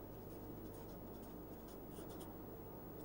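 Pen or chalk scratches steadily through a letter-writing lesson as a place name is written out, a continuous close scraping over a constant room hum with no talking.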